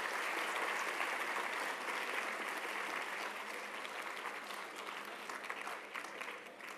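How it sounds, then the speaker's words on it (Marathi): Students at an inaugural session clap together in sustained, even applause, a continuous crowd roar of hands that stays level and fairly distant throughout. "एकदा सगळ्या विद्यार्थ्यांनी टाळ्या वाजवून आपला उत्साह"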